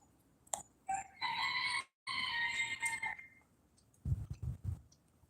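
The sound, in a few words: chickens clucking outdoors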